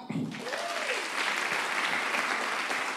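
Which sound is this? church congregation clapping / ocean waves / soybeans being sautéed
church congregation clapping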